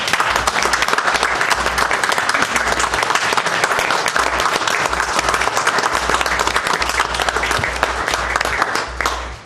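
At a county board of commissioners meeting, the room stands and applauds a visiting group, producing loud, dense, continuous clapping that carries on strongly for several seconds before starting to fade at the end.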